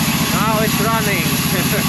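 Small gasoline engine on a Logosol band sawmill running at a steady idle, a loud, even, close-up drone with a regular low pulsing and no pauses.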